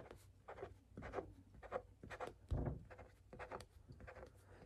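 A marker drawing polka dots on thick paper, short repeated dabbing and scratching strokes in an irregular rhythm, close and quiet with no talk.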